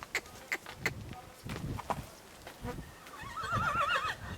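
A horse tied to a tree branch neighs, with a rising, wavering whinny near the end. Scattered hoof clops and knocks come before it, heard close in an outdoor setting with no talk.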